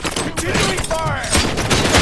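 Bursts of rapid gunfire in the RoboCop: Rogue City video game, loud and close, firing repeatedly in quick volleys over about two seconds.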